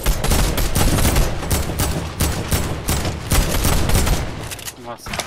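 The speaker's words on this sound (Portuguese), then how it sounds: "Nossa, tá um tiro." Rapid gunfire from a battle royale video game, dense bursts of shots nearly continuous and loud for about five seconds, with players talking over the action.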